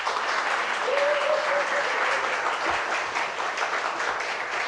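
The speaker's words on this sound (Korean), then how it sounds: "이승현 목사님 나오실 때 환영의 박수 부탁드리겠습니다." A church congregation at a Sunday afternoon teachers' dedication service claps together in sustained, dense applause to welcome a pastor, filling the room at an even level with a voice briefly heard over it.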